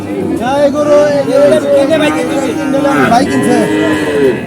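Cattle moo loudly and repeatedly at a livestock market, long drawn-out calls overlapping one another, with a hum of crowd chatter in the background.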